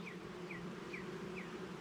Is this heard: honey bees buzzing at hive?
yes